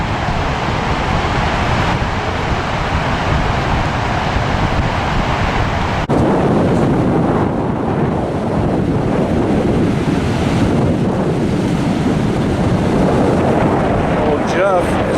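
Pacific Ocean surf breaks steadily along an Oregon or Washington coastline, with loud gusting wind buffeting the microphone throughout and a continuous wash of waves close by.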